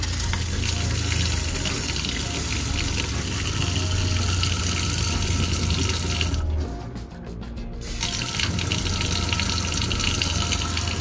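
Water runs from a tap on an off-grid water system in a steady, loud rushing flow, with a brief dip in strength partway through before it picks back up.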